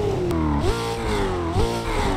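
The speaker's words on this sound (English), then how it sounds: "Take a listen to the revs." A 2024 Ford Mustang GT V8 in Assetto Corsa rasps through quick rising revs, dipping and climbing again twice in about two seconds, loud and close with no voices.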